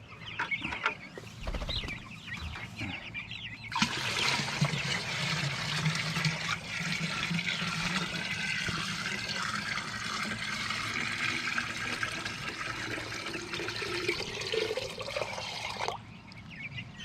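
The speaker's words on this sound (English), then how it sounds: "every bit of that water right there comes right out of the ground over here at our spring" Spring water flowing out of the ground on a small farm, a steady broad rushing and splashing that runs for most of the stretch, with faint chicken clucks from young Jumbo Cornish Cross broilers nearby.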